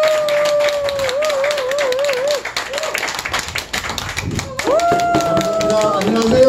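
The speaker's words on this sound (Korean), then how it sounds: "뜨거운 박수로 만들어주시기 바랍니다." At a health forum anniversary event, an audience claps to welcome a lecturer, with sharp, uneven claps heard under loud, sustained background music and tones.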